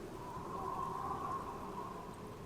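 Steady rain falling in the video game The Black Mirror, a continuous close hiss of drops hitting the ground with no talking over it.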